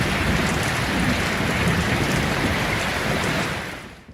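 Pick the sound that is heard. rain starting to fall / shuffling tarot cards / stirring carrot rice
rain starting to fall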